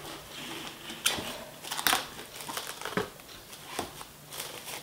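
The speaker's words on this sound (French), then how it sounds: "on va prendre un film alimentaire et on va venir le recouvrir" Plastic cling film is pulled and pressed over a terrine mould for a Christmas log dessert, giving soft crinkles and a few sharp crackling snaps up close, with a quiet voice between them.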